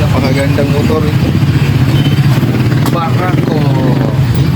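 A Barako 175 motorcycle engine idles close by in a repair shop with a loud, steady low chugging throb, while someone talks over it.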